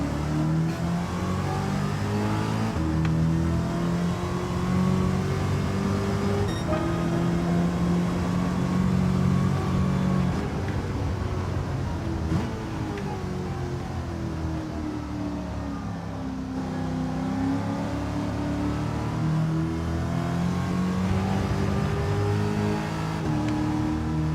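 In the racing game Gran Turismo 7, a race car engine drones steadily for the whole stretch, its pitch rising and falling as it revs and shifts, with no one speaking.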